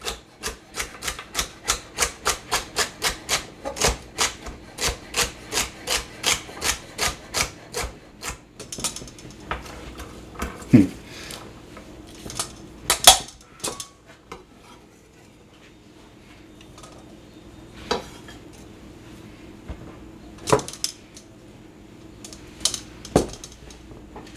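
A kitchen knife chops onion, peppers and celery on a board for gumbo, with quick even taps at first that thin out into scattered single chops and soft handling noises.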